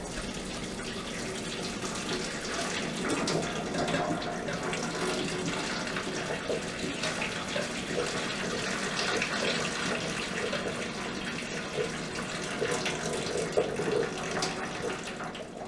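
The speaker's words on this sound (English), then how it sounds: "When pouring out the water, it is important not to pour out the water too quickly." Hot water is poured steadily out of a pot of boiled eggs into a sink, making a continuous close rushing gush of liquid that lasts throughout without a break.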